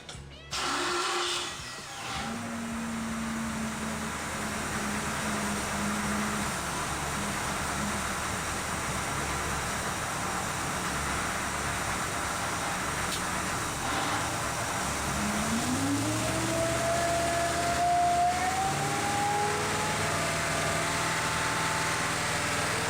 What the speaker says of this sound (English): And now I'll just start the engine real quick and show you an example of it working.